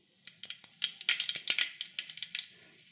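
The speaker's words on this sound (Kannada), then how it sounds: "ಸಾಸಿವೆ ಸಿಡಿತಾ ಇದೆ." Mustard seeds splutter in hot oil while tempering, a quick irregular run of sharp little pops and crackles, close and fairly quiet, with no talking.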